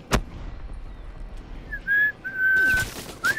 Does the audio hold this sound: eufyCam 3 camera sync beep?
no